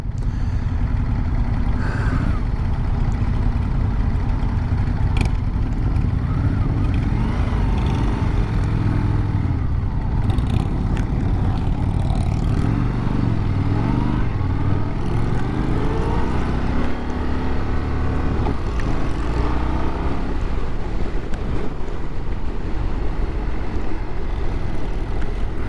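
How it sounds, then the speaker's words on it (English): A Triumph T120 motorcycle engine on its stock exhaust rumbles steadily with a deep, throaty tone, loud and continuous as the bike rides at a demo day, with no talking over it. "Got a nice throaty sound to it. Stock exhaust."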